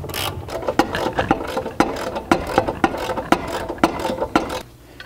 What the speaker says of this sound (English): Now we're gonna remove these side braces here, and we're gonna do that with a 16mm socket.